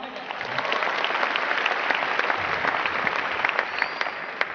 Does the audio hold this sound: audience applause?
yes